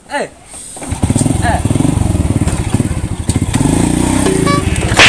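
An old, worn-out motorbike engine putters loudly and close, its uneven rhythmic chugging revving slightly, with a voice briefly heard at the start.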